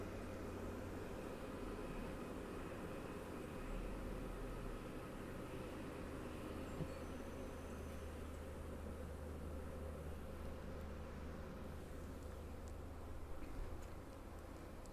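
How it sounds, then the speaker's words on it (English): A honeybee swarm hums steadily around a laundry basket outdoors during a swarm capture, a dense continuous drone of many wings with no voices, holding level throughout. "There's always going to be bees flying around when you do this."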